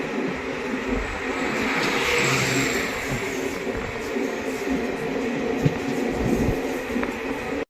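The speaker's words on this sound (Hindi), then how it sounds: "ट्रेन अपनी चढ़ाई चढ़ रही है" Bandikui–Bareilly passenger train climbing a gradient, a steady rumbling roar of engine and wheels on track, close and continuous, swelling slightly then holding level throughout.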